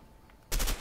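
A single gunshot fires in the co-op video game A Way Out: a sharp, loud blast after half a second of quiet, with no voices.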